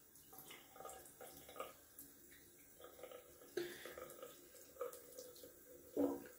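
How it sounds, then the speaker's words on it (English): A shaving soap lid rinsed under a running tap, a faint, quiet trickle and splash of water with a few brief louder splashes near the end. "Just rinse off the lid."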